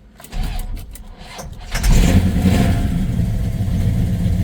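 A 1968 Pontiac Tempest GTO tribute engine cranks with rapid starter pulses, catches and settles into a loud, steady rumbling idle close by.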